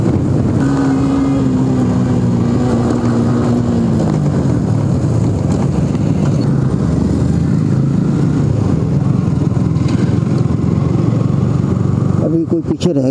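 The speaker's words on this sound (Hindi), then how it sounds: "ये तूफान आते हुए डोमिनार और लेजेंडरी बाइक बुलेट" Dominar and Bullet motorcycles on a group Sunday ride roar past, a loud, continuous rumble of engines close by with a rising whine early on and a steady throaty drone throughout.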